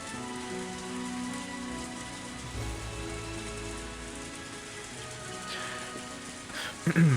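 Rain falling in the visual novel game Higurashi: Matsuribayashi, a steady wash of raindrops hitting surfaces with soft musical tones beneath, and a brief louder patter near the end.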